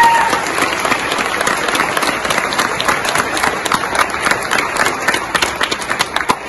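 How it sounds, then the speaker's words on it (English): A crowd applauding award recipients at an evening family event, with dense, continuous clapping from many hands, loud and close, and a few faint voices mixed in. "Now let's put our hands together and give these amazing individuals a loud round of"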